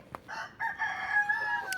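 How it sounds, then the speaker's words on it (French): A rooster crows once in a farmyard flock, a clear, fairly close cock-a-doodle-doo with a sustained, slightly wavering call, with no talk over it. "Derrière, c'est un des coqs."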